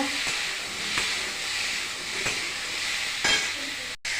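Chopped vegetables go into a pot of boiled dal for khichdi, giving a steady wet sizzle and hiss with a few soft stirring knocks and scrapes, close and continuous.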